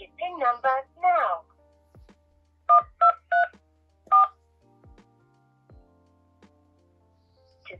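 Four telephone keypad tones entering a PIN on an automated payment phone line, short sharp beeps in an uneven rhythm after a brief bit of speech, with faint clicks around them.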